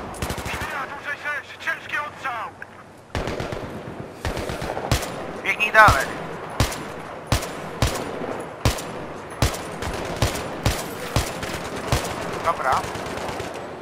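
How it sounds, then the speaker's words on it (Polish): Rapid rifle fire in Battlefield 3, loud close bursts of sharp shots in an uneven rhythm through most of the stretch, with someone speaking briefly over it. "Fajny karabin ma straszny odrzut"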